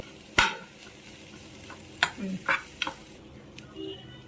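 Spoon scraping and stirring coriander powder into a mixture in a pan while cooking mutton biryani, a few sharp metallic clinks and scrapes spaced irregularly over a soft low sizzle.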